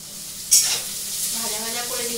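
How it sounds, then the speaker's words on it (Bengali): Onion frying with ginger and garlic paste, a continuous nearby sizzle with a brief louder burst of hiss at the start, and a voice speaking over it toward the end. "ভাজা ভাজা করে দিচ্ছি, যাতে আদা আর রসুনের কাঁচা গন্ধটা চলে যায়।"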